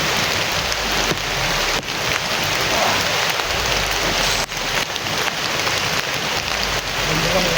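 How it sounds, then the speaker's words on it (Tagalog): Steady rain hisses down in a continuous wash of noise, with a few soft thuds and knocks breaking through the downpour. "Parang ulan ah."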